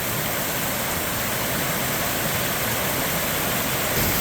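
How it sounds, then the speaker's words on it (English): A thundering roadside waterfall on Mill Creek roars steadily and loudly, a dense continuous rush of falling water with no pauses and no voices. "here is the upper waterfall. It is thundering."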